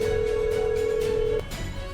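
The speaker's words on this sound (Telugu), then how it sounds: "అందుకే దూరం నుంచే తనకు ఫోన్ చేసింది" A telephone tone sounds during a call: a steady, even electronic tone holds for over a second and then cuts off abruptly.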